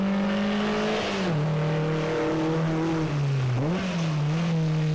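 Race car number 16 roars past at an auto sprint, its engine loud and close with a steady high drone that dips and rises in pitch as it passes, with no voices.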